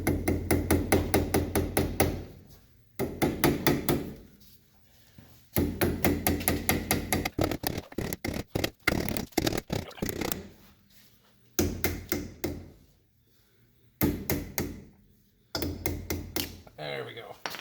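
A hammer taps repeatedly on the metal bearing cap of a cargo trailer wheel to knock it loose, giving close, rapid bursts of ringing taps separated by short pauses.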